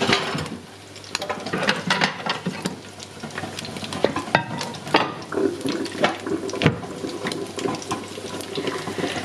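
Seitan frying in oil in a pan, a continuous close sizzle and crackle broken by scraping and clinking as the pieces are stirred and turned.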